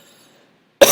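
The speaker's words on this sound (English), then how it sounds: "I got a cough here" A single sharp, loud cough bursts out abruptly at the very end after near silence.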